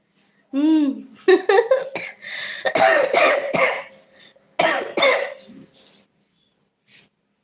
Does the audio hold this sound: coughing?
yes